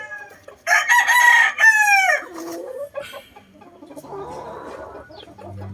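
A kanawayon rooster crows loudly and close by, one long harmonic crow rising and trailing off, followed by softer clucking and low farmyard noise.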